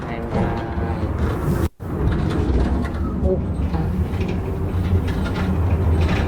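Steady, loud rumbling and rattling from the inclined rail tram climbing Khao Wang hill to Phra Nakhon Khiri in Phetchaburi, heard from on board and continuing almost without a break apart from one brief dropout, with faint voices and bird calls mixed in.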